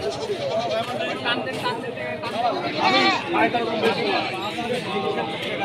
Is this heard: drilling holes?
no